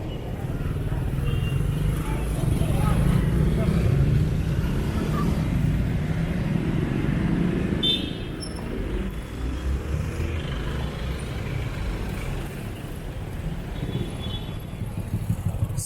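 Steady road traffic in the Philippines, cars and motorcycles passing close by in a continuous rumbling wash, a little louder in the first half, with faint talk mixed in.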